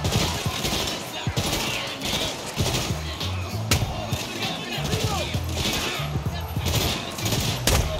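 Dense gunfire rattles on in the Saints Row action game, rapid shots and bursts nearly nonstop and loud, with a voice talking over the shooting at times.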